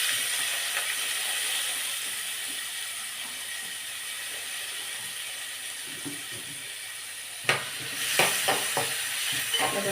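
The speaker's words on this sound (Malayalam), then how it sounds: "ആ നെയ്ക്കകത്തോട്ട് തന്നെ മത്തങ്ങ കണ്ടോ ചെറിയ കഷ്ണങ്ങളാക്കി കഴുകി നുറുക്കി വെച്ചിരിക്കുന്ന ഇതകത്തിട്ടൊന്ന് വഴറ്റി വേണം." Small pumpkin pieces sautéed in ghee for a pumpkin payasam give a steady, close sizzle and hiss, with a few sharp stirring clatters toward the end and no talking.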